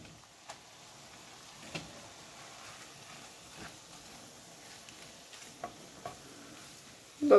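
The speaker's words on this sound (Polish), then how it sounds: "Dodajemy makaron i ciągle mieszając podsmażamy 2 minuty." Quiet sizzling of yaki soba noodles with pork tenderloin stir-frying in a pan, with occasional soft scraping and clicking as they are stirred, a louder clatter right at the end.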